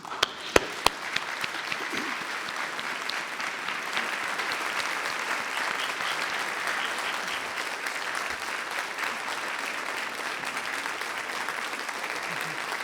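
A large audience at a University of Aberdeen winter graduation ceremony gives sustained, even applause for the graduands, a broad wash of many clapping hands lasting well over ten seconds, with a couple of sharp claps near the start.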